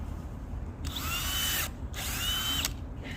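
A power drill bores holes in soil for planting spring flowering bulbs, two loud whirring bursts of about a second each with a brief pause between, close by and without talk.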